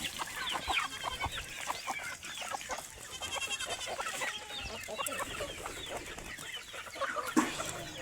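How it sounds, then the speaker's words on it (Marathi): Free-range village chickens cluck and squawk in a rural farmyard, a busy overlapping chorus of short calls at moderate distance, with livestock cries mixed in. "हे बघा गावरानी कोंबडी आमच्या मायची बाबाची."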